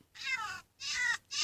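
A Minecraft cat meows twice in clear, separate calls, and a third meow begins at the end, all fairly quiet with no talk over them.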